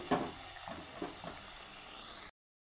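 Chana dal and flour snack pieces frying together in oil over a low flame, giving a soft, steady sizzle with a few light clinks and stirring touches before cutting to silence.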